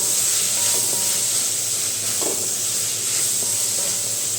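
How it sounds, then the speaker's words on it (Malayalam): Pineapple pickle sautéing in a pan with salt being stirred in, giving a steady close sizzling hiss throughout with a few soft stirring scrapes. "ഇങ്ങനെ വഴറ്റിയെടുക്കാം ഇതിലേക്ക് ആവശ്യത്തിനുള്ള ഉപ്പ് ചേർത്ത് കൊടുക്കാം ഒന്ന് നന്നായിട്ട് ഇളക്കി കൊടുക്കാം"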